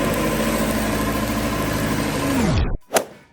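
A Tsuzumi TWD 600 welding genset engine runs at a steady, loud idle with a constant drone, then shuts down and spins to a stop near the end, followed by a single short knock.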